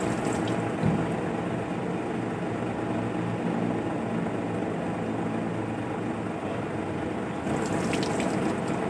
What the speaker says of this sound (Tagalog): Buhos-buhusan lang natin yun.